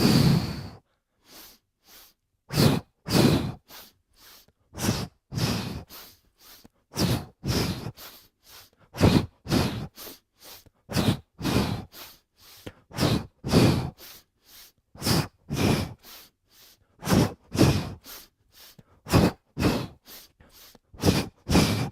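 Kundalini yoga breathing: a long series of sharp, rhythmic inhales and exhales through the nose, evenly spaced puffs repeating steadily and close by, with no talking.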